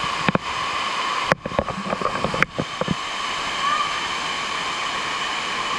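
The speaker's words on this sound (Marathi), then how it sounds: "माझ्या आयुष्यातला सर्वात सुंदर वॉटरफॉल आहे." A powerful waterfall in Meghalaya, near Wei Sawdong, roars as a steady, loud wash of falling water throughout, with brief voices cutting in near the start.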